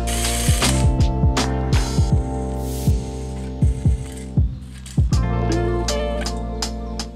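A ratchet tightens engine bolts to torque spec on a Honda K24A engine being swapped into a CR-V, a series of loud close clicking strokes in irregular bursts over a steady hum.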